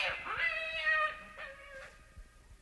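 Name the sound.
cat meowing in a radio drama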